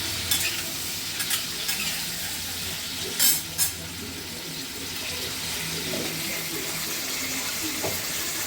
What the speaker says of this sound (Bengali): আর এখন দেখো চিংড়ি মাছ ভাজা হচ্ছে।